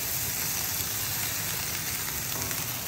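Potatoes, sausage and onions cooking in a cast iron pan, with a loud, continuous sizzle and popping fry close up, alone and steady for the whole stretch.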